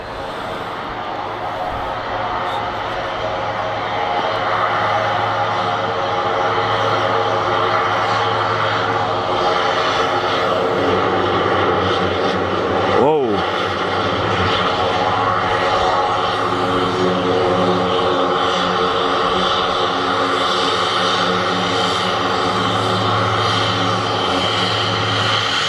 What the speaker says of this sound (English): So it's Jetstream 41 from Newquay.